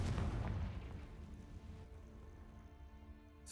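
In Hogwarts Legacy, a Confringo spell explodes with a deep, heavy boom, then a rumbling tail of debris and echo slowly fades over several seconds.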